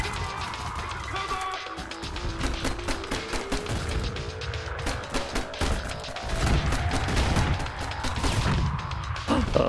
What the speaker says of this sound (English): Now the grenade launching starts.